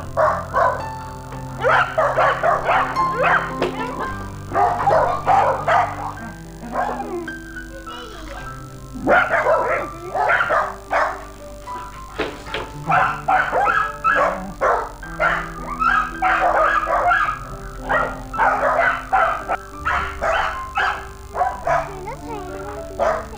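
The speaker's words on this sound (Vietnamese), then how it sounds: "đây là những cái chuồng cún" Dogs in kennels at the Dalat Wonder Resort, Wonderland play area, yap and bark in repeated bursts, loud and close, while someone talks and a looping jingle plays throughout.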